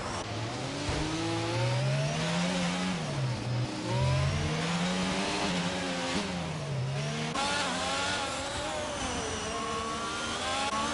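A race car engine in a sim racing game at Monaco revs and shifts continuously, the pitch climbing and dropping through gear changes, loud and close with faint tyre noise.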